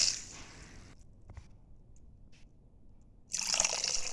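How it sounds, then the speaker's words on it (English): Water poured into a bowl of green gram, heard as a brief trickle and splash at the start, then quiet with small drips, then another louder burst of pouring near the end. "And then you need to add some water to your bowl too."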